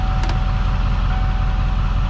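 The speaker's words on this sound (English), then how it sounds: "You can hear the truck runs" A 7.3L Powerstroke diesel truck engine running on a custom tune, a steady, close, dense rumble that holds an even idle throughout with no talk over it.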